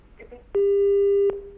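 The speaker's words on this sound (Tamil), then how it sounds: "ஓகே கால் கட் ஆயிருச்சு சார்" A telephone busy tone sounds after a phone call disconnects, a single steady electronic beep lasting under a second, loud and close, with faint murmuring just before it.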